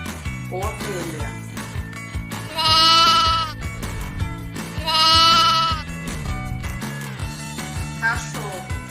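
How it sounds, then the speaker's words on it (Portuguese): Two prominent sheep bleats, each lasting about a second, stand out clearly above continuous light background music, separated by a short gap. "Ovelha. Ovelha."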